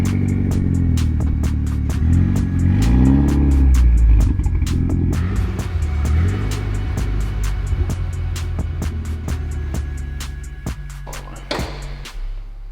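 A car engine runs and revs with rising and falling pitch as the car pulls into a shop, joined by sharp rhythmic clicks and a brief hiss near the end.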